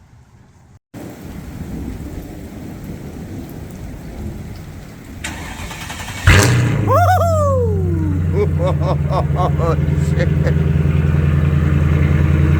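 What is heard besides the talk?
Mercedes SL R230 5.0 V8 cold start loud exhaust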